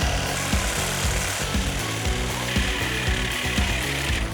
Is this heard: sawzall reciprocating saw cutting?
yes